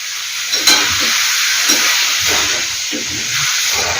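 Raw papaya curry with tamarind and salt being stirred in a hot pan, a loud steady hiss of sizzling punctuated by soft scraping strokes of the spoon, with no speech.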